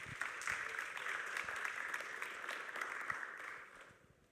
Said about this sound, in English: So please give Austin a big round of applause.